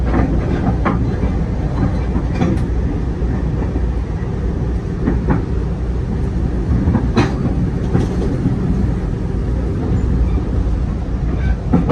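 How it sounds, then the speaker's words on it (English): An out-of-service GO train passes at the Kingston siding, a loud, steady rumbling roll with rhythmic clickety-clack from the wheels and occasional sharp metallic squeals, heard from on board another train. "On the train, we met with an out-of-service GO train at the Kingston siding."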